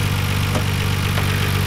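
A 1994 Nissan Skyline GT-R R32 engine with high mileage idles steadily with a low, even rumble and faint rhythmic ticking, close and fairly loud, with no voices.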